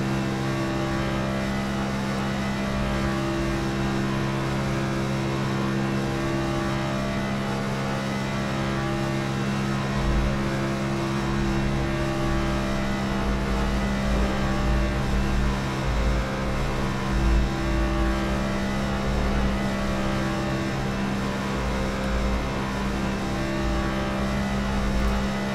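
Steady, droning whine of NASCAR NextGen race car engines at the Monza oval in the iRacing video game, a continuous loud hum with slight swells as cars run flat out, no talking.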